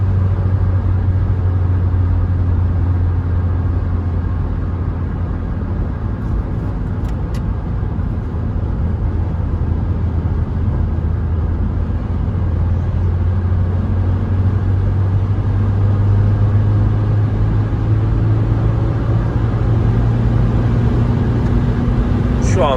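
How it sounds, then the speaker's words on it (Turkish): A Ford Tourneo Courier climbs a hill at about 120 km/h in sixth gear, heard from inside as a loud, continuous engine drone and road rumble that rises slightly in pitch toward the end. "Evet şu anda yokuş tırmanıyoruz saatte 120 km hızla."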